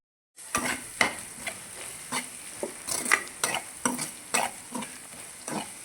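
Malabar spinach chutney frying in oil while being stirred: a steady sizzle broken by regular scraping stirs, close and fairly loud, with no talking.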